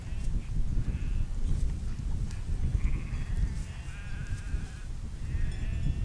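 Flock of sheep bleating in thick mountain fog in the Retezat Mountains, several overlapping bleats near and far over a steady low rumble of wind.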